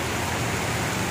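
Heavy rain pours in a steady, loud, unbroken hiss during a storm with strong wind and flooding in Samar, filling the whole moment with no voices.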